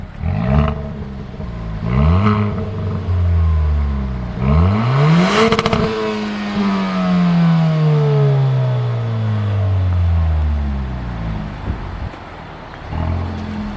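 Stock exhaust of a 2021 Kia Forte GT revving while parked: several rising and falling engine revs, a sharp climb around the middle followed by a long descending tone, loud and close with no talk.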